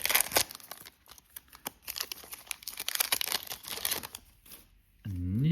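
Foil wrappers of Prestige 2024 football card packs crinkle and tear in a steady run of close, crisp rustles, ending in a brief low hum.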